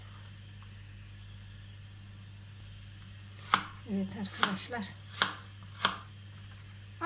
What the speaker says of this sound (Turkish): Küçük küçük doğruyorum. Daha rahat doğranıyor.